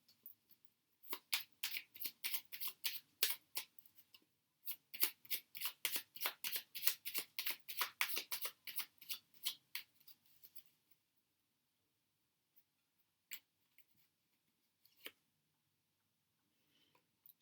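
Angel oracle cards being shuffled by hand, a fast run of crisp riffling flicks that pauses briefly and starts again, then trails off into a few isolated card taps in a quiet room.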